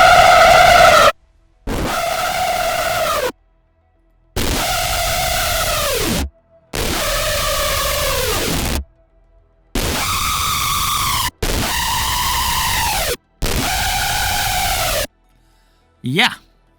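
Bright, heavily detuned Xfer Serum screech synth lead with reverb and hyper dimension, playing seven sustained, loud held notes with short gaps between them and a brief tail at the end.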